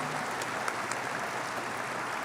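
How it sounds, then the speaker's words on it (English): Audience applause and cheering at a high school graduation ceremony, honoring perfect attendance finalists: a steady, dense wash of clapping that holds at even loudness for the whole stretch with no voices over it. "this calls for a huge round of applause and cheers from the audience"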